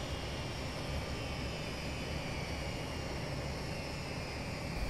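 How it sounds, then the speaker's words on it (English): A BAE146-300 airliner's engines spin up inside a flight simulator game, giving a steady, dense roar and whine that holds unbroken and fairly loud, with no voices over it. "Right, so the engine's starting up nicely."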